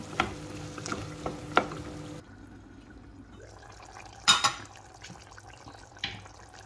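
Dried tengra fish and potatoes get stirred in a pan, giving a steady frying hiss with light scrapes and a few clinks of the utensil against the pan. After a quieter stretch, a louder scrape comes up close.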